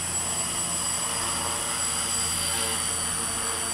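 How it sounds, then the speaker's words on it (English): A QR X800 quadcopter drone lifts off and settles into a hover outdoors in gusty wind, its steady, loud rotor whine and buzz droning continuously and close by with no talking. "we're gonna get up to a hover"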